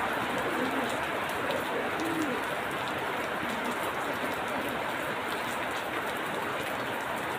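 Steady rain falls continuously, a dense even hiss with occasional faint bird cooing in the background.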